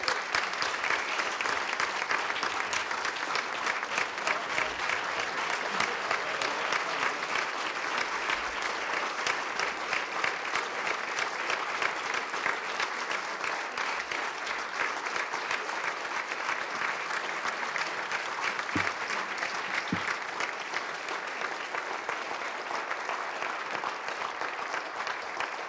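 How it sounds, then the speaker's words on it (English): Long, unbroken applause filling a sports hall of fame banquet room as the crowd honors a team, a thick even roar of many hands clapping at constant loudness for the whole stretch. "Give them one more round of applause, if you would"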